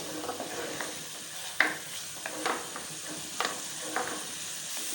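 Yogurt roasts in a frying pan with a constant close sizzle while a spatula scrapes and taps through it in short, irregular strokes, with no voices.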